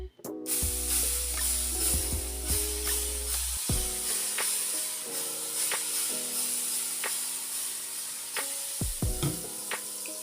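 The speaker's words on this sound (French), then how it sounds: "je vais utiliser mon spray d'huile d'olive sur ma plaque" Olive oil spray hisses onto a hot griddle set to medium while plantain-banana crêpes are being made, loud steady spray bursts with crackling sizzle and clinks, no talking.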